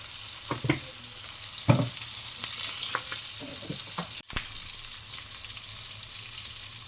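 Spices sizzle in hot oil in a pan for a Kerala-style fish curry, a steady bright hiss with a few sharp clicks and taps from stirring. No one speaks.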